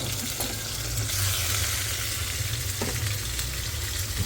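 Chicken pieces frying in a pan, a steady close hiss and sizzle of hot oil with a few soft clinks of stirring, continuous throughout.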